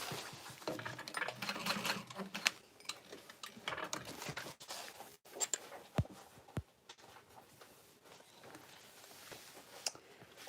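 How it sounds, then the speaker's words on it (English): Sewing machine adding a box stitch to tote bag connectors, faint irregular mechanical ticking and short stitching bursts with small clicks and handling noises, quiet and close. "I'm just adding a box stitch"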